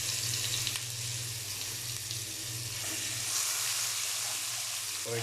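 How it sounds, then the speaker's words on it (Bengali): Whole cumin and other whole spices crackle in hot oil in a very hot pan for a duck curry, a soft steady sizzle with scattered small pops and a low background hum. "সাবধান, ঠাস টুস করে ফুটে যায়।"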